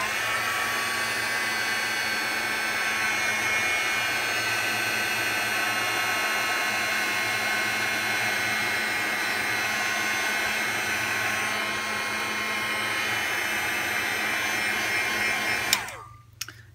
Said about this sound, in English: I'm gonna get my heat gun so I can dry it in between